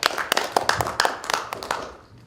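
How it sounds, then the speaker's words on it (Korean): A small group at the founding assembly of a basic income forum claps to approve a vote, with a brief, scattered burst of distinct hand claps that quickly fades away. "네, 동의하시면 박수로 통과하겠습니다."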